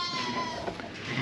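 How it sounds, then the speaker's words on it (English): A sheep bleats during lambing in a farm pen, a single sustained wavering bleat heard close and fairly loud over a steady background hum. "There's a couple of sheep lambing here,"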